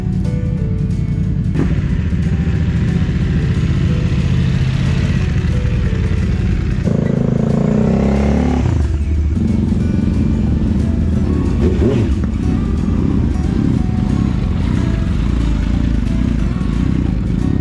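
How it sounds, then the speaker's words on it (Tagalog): Several motorcycle engines warming up, idling and revving loudly nearby, a steady rumbling drone with occasional clattering, running continuously. "Papainitan ng mga motor."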